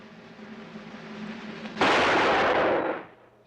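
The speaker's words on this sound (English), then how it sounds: "I'm gonna put a bullet hole right in the middle of that mark." A single gunshot aimed at a marked target on a ranch in an old TV western bursts in suddenly after a low murmur. It rings loud and broad for about a second before cutting off.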